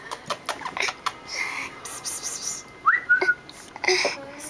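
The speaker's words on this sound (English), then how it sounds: "The whistling doesn't work anymore." A person whistles a few short sliding notes, fairly close, amid scattered clicks and light household noise with no talk.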